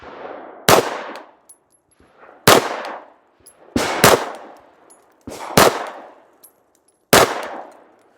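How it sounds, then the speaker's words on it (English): Five sharp, loud Glock pistol shots fired at a 10-yard target, spaced unevenly about one to two seconds apart, each with a short echoing tail and faint metallic pings between them. "So we'll see how I shoot this gun at 10 yards."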